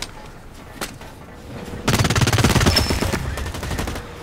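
Gunfire in the shooter Blacklight Retribution, with a lone shot early on, then a loud rapid burst of automatic fire lasting about a second and a half before tapering into scattered shots, close and punchy.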